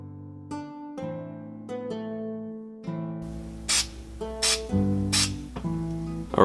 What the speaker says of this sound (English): So first I'm going to add some primer, and I'm going to try my best to not get it too much on the black